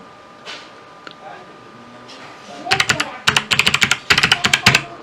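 Someone types a mobile number on a computer keyboard: after a quiet start, a quick burst of crisp, close key clicks follows in uneven clusters, loud against a faint background.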